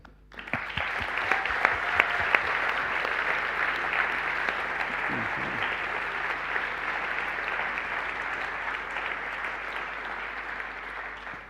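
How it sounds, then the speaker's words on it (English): A large conference audience at the Wikimania 2025 opening ceremony in Nairobi applauds in appreciation, sustained broad clapping that swells quickly and stays loud and steady for over ten seconds before easing slightly. "let's just have a moment of applause in deep appreciation for those and the lives they lived and the gifts they gave us"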